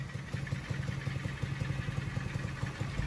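A motorcycle engine idles smoothly with an even, rhythmic low putter, close and steady for a few seconds with no talk.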